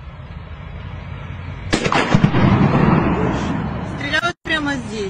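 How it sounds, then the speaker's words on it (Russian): Artillery fire shelling houses: a heavy rumbling blast rolls in and sustains loudly for a few seconds over a noisy outdoor background, briefly cutting out near the end. "Да, по домам стреляют."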